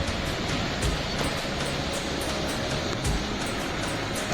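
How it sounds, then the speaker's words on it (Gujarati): Floodwater surging hard across fields beside a highway after a heavy downpour, a loud, unbroken rushing roar with occasional low thuds and no voices. "કેવું પાણી જોરદાર જઈ રહ્યું છે તમે જોઈ શકો છો"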